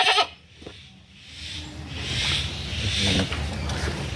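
A weak goat that keeps falling over and cannot get up bleats in a few drawn-out, moderately loud calls against quiet outdoor background noise, with no talk.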